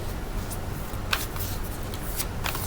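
Tarot cards are shuffled softly and close by in a continuous papery riffle with a few crisp slaps, under faint room noise and with no talking.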